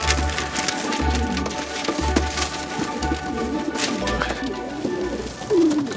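Homing pigeons coo in a steady, rhythmic series of low, throaty calls, close by, with some faint background rustling and movement.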